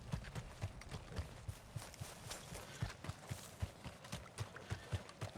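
Horse hooves clip-clopping at a steady walking rhythm in the video game Red Dead Redemption 2, a fairly quiet, regular series of hoof falls with no talk over them.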